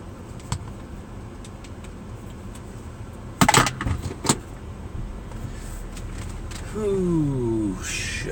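A car pulls out of a driveway on a weekday morning, its engine idling steadily with a brief clunk and rattle partway through and a rising whir near the end as it moves off.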